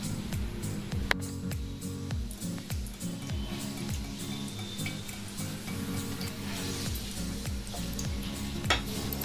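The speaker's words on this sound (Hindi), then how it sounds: "2 बड़े चम्मच तेल डालेंगे।" Two tablespoons of oil go into a hot pan for turai chana dal, bringing a steady close sizzle with frequent light clinks and scrapes of utensils against the pan.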